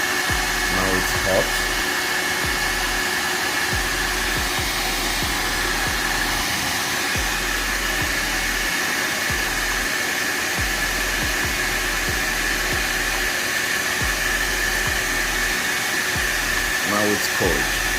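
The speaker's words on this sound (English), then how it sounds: "As you can hear, it's somehow powerful, you know." A VGR V431 hair dryer runs continuously on its hot setting, giving a steady, loud, close-up blowing hum with no breaks.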